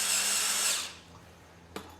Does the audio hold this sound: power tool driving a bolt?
yes